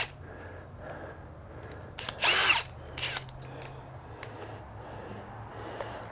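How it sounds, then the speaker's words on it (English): A power drill removing bolts on a new Thumpstar TSF 250 X3 motorcycle whirs in two short bursts, one longer and louder, the second brief, amid quiet workshop background. "Let's get you some drill"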